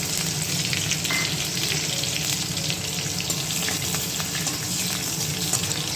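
Panch phoron and chopped green chili frying in hot oil, a dense, continuous close sizzle and crackle that stays loud and even throughout, with no talking.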